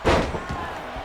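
A wrestler's slam impact in a wrestling video game, with a sharp thump at the start and a lingering crowd-like wash behind it.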